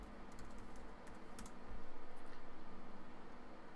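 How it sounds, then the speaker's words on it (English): Fast, soft typing on a computer keyboard, a quiet run of light key clicks over a low steady background hum. "type in your credentials"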